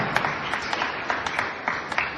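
An audience at a state-level rapid chess tournament for visually challenged players applauds the president in a short, dense burst of steady clapping from a crowd nearby.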